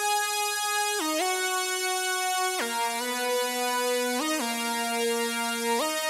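Synthesizer lead melody from the Serum plugin for a rage-style hip-hop beat, a bright, buzzy sustained tone stepping between a few held pitches with quick glides, played alone, clean and steady.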